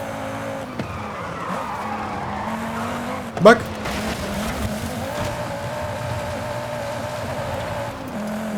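A 600HP Volvo C30 Polestar drifts through a sharp corner in Forza Horizon 5, its engine droning steadily as the tires squeal through the slide, with a brief louder burst midway.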